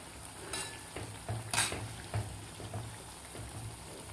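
Sweet wheat-flour and jaggery gulgule fritters frying in hot oil, a steady close sizzle with occasional soft clinks and scrapes as the pieces are turned.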